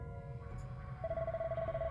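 A telephone rings in the horror game Purgatory's Flower, a steady pulsing electronic ring that comes in partway through over a faint, low background hum.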